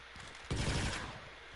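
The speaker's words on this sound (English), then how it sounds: "Gunfire." Sustained machine-gun fire in Fortnite during its Star Wars season, a dense loud burst of rapid shots starting about a third of the way in and continuing steadily to the end.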